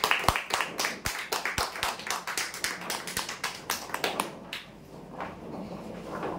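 A small audience claps sparsely and unevenly at a weekly lucky draw, cheering winners of a mini bicycle prize; the sharp, scattered claps come close by and thin out toward the end.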